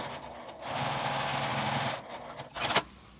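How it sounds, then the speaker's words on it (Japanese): A sewing machine stitches the seam of a fabric zipper pen case, a steady close whirring hum that runs for a couple of seconds, then a short louder burst as the stitching stops. "縫い目が気にならないときはミシンで縫います"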